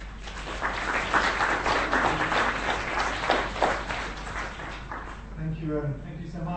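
An audience applauds after a talk on a curriculum for global engagement in higher education, a dense burst of clapping that swells and then thins out toward the end.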